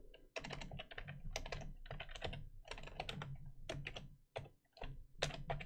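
Rapid, close typing on a computer keyboard while entering code, with irregular clusters of crisp key clicks and brief pauses, quiet and without talk.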